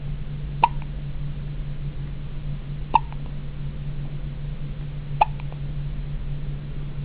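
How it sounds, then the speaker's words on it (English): A baby in a hospital hiccups three times at even intervals of about two seconds, each a short soft catch of breath over a constant low electrical hum. "I got the hiccups."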